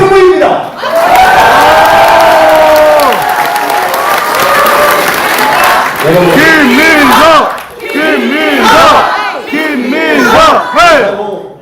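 A large crowd at a Democratic Party members' rally in Seoul breaks into loud, sustained cheering and rhythmic shouting with clapping, filling the space for several seconds in waves.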